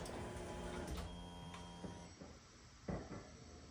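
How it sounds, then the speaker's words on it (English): A garage door opening, with a steady mechanical motor whir followed by a few clunks and knocks as it travels. No voices. "We're gonna open the garage here so we don't fume ourselves out."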